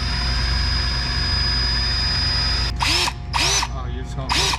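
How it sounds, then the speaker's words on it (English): A drill runs in a steady whine while small holes are drilled into a crankshaft seal on a BMW E39. Three short louder drill bursts follow near the end, close up in a workshop. "we're gonna take this drill bit, we're gonna drill 2 very small holes in either side of the seal"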